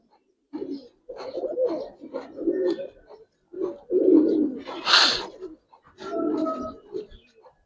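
Giribaz and coloured pigeons at a pigeon farm coo in low, throaty bursts that repeat in short clusters, mixed with people talking nearby.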